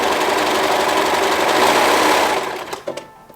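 A serger overlock machine runs steadily while serging fabric, a loud continuous motor whir that stops near the end, leaving a few faint clicks and handling sounds.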